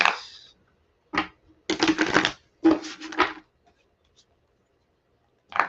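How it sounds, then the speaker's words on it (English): Tarot cards are shuffled and pulled: quick riffling and slapping bursts of card noise come in short clusters separated by quiet gaps, close and clear with no talking. "Let me pull some cards on this."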